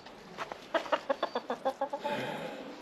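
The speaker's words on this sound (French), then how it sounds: "Là il y a beaucoup de poules." Hens roaming a henhouse with outdoor pens give a quick run of about a dozen short, evenly spaced clucks close by, then a softer, drawn-out murmur of clucking as the rhythm breaks up.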